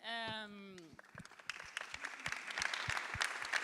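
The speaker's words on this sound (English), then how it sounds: "Yes, let's give a round of applause." An audience at an opening night event breaks into applause, with scattered claps growing into steady, moderately loud clapping after a short spoken phrase at the start.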